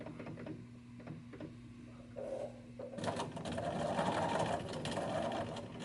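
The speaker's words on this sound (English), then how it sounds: "I start sewing onto this piece, and I'm going to sew on this, and I'm going to sew right off of it" Sewing machine stitching quilt piecing onto a thread saver scrap, a steady mechanical whir that runs quietly at first, then grows louder and busier for the last few seconds, with no talk.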